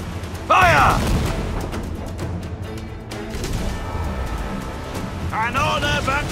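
Ship cannon fire in Assassin's Creed 4 Black Flag, booming blasts among game effects and sea noise, with voices talking over the battle.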